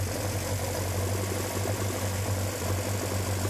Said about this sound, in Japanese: 徐々にエンジンの振動が減って滑らかになると思うんですけれども、